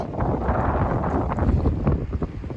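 Strong wind buffets the microphone on a fishing pier at Gemsaz in Bursa beside a choppy sea, producing a steady loud rumbling roar with gusty fluctuations and no voices.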